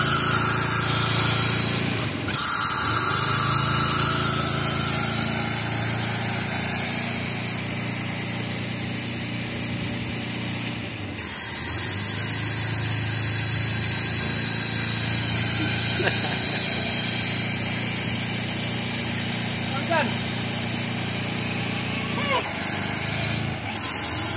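A rebuilt Toyota 1FZ engine runs steadily with a dense mechanical drone and hiss, loud and near, with occasional sharp knocks and brief revs. Someone talks over it at times.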